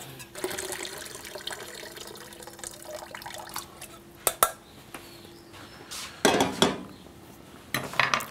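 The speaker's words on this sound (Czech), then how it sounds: "Tady si brambory scedím." Boiled potatoes drained in a kitchen sink, with faint running water under clinks and clatters of a pot and utensils and a few sharp knocks, heard at low volume without talk.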